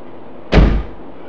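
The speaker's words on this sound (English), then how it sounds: "Got to hear the nice click-click sounds, things like a freaking car door" The lock of a Cold Steel Rajah II folding knife snaps shut in one heavy, close, solid clunk with a brief fading tail, much like a car door closing.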